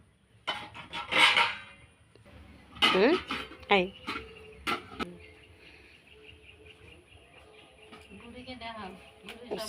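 Palm batter being mixed by hand in a bowl set in a bucket of water, for village-style burnt palm pitha. Several close clinking and scraping bursts come in clusters, with people talking and birds chirping nearby.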